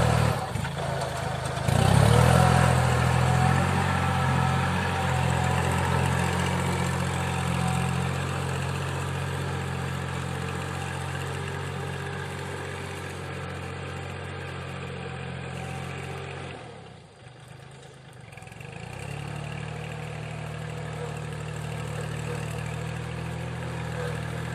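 A steady tractor diesel engine idles and chugs close by, a low rumble with some clatter, dipping briefly before settling back into its running drone.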